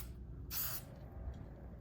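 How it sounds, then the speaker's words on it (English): A spray can sprays enamel paint onto wooden trim, giving one short hissing burst of about a quarter second that stands out clearly over quiet low room hum. "hold the spray can approximately 12 inches from the surface, and apply smooth, thin coats in a sweeping motion"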